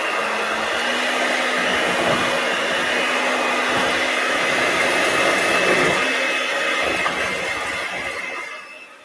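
An electric mixer whirs steadily as eggs are blended into softened cream cheese for red velvet swirl cheesecake bars, a loud continuous motor hum lasting several seconds before tapering off at the end, with no one talking.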